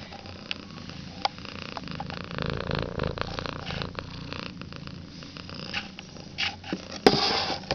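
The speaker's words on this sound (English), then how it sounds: "You might have been able to pick up a little bit on the purring machine that he is." A cat purrs steadily close to the microphone, a soft low rhythmic rumble that continues throughout, with a few faint clicks and rustles over it.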